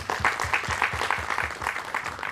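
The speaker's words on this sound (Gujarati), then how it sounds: "જોરદાર તાળી થઈ જાય." An audience at a community function breaks into steady applause, a dense patter of many hands clapping at moderate distance, without speech.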